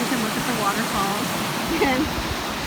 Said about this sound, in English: there's a little side trail to go on this cute little bridge that you can look at the waterfalls